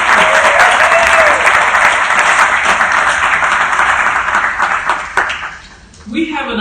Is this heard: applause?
yes